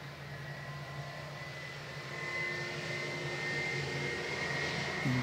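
An Air New Zealand airliner taxis in strong winds, its engine whine and low hum holding steady and then growing somewhat louder as it draws closer.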